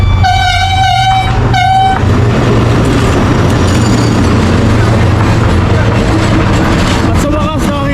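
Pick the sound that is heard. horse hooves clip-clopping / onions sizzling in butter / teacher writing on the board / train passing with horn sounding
train passing with horn sounding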